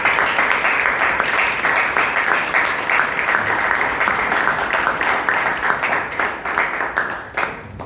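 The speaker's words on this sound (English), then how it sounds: "please give Imtiaz a big round of applause" Steady, dense applause from a crowd, loud and continuous for several seconds before tapering slightly.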